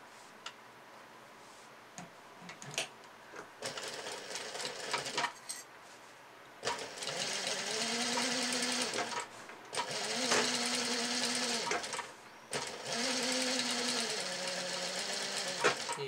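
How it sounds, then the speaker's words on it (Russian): A sewing machine runs a double decorative topstitch along a folded edge of old denim jeans, with bursts of fast stitching separated by brief pauses and clicks, close and loud. "а теперь подогнем в одну сторону и сделаем двойную отделочную строчку."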